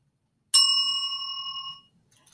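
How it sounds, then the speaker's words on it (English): A single bell struck once, ringing clearly with a bright sustained tone that fades over about a second and a half, then a faint short rattle afterward. "I ring a bell."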